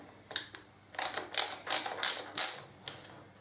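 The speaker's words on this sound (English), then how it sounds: "I'm going to take the primary cover off, obviously because I want to check the primary chain tensioner" A Harley Davidson Deuce primary cover being removed, a series of about eight sharp metallic clicks and clanks from tools and parts, close and fairly quiet, irregularly spaced.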